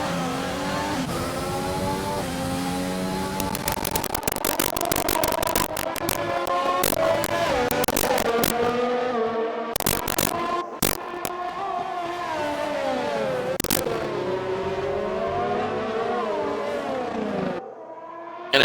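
Race cars in an Xbox One racing game, a McLaren and a Mercedes on the front straightaway of the Canadian Grand Prix, scream past in rising and falling engine whines, several cars overlapping loudly.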